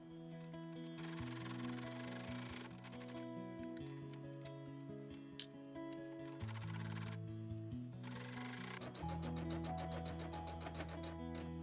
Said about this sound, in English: As you stitch around, make sure you catch all 3 layers of the fabric and batting.